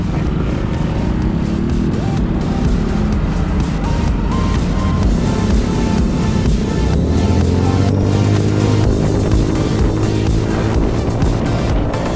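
A Zontes 368K motorcycle accelerating away from a red light, its engine rising in pitch through the gears, loud and close over heavy wind rush, with no speech.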